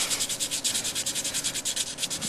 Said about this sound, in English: another reason why you want to avoid using epoxy putty for anything but big jobs is because it's a real pain to sand down.